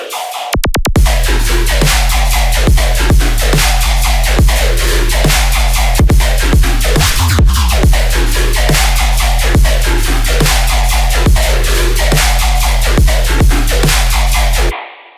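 A laser bass synth pounds out loud, heavily processed, distorted notes with laser-like pitch zaps in a steady rhythmic pattern, sustained and dense for about fifteen seconds before cutting off.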